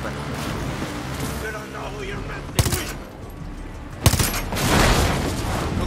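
Gunfire in Far Cry 6, with two sharp loud bursts of shots standing out over continuous game noise and someone talking throughout.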